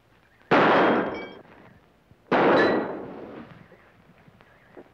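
Two loud revolver gunshots in an old Western drama, each a sharp blast with a decaying echo, about two seconds apart, close and with no talk.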